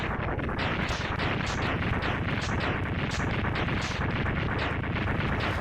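Dense, continuous game explosions from Mega Man X2 form a loud, unbroken barrage of booming blasts and crackling bursts that overlap steadily throughout, with no speech.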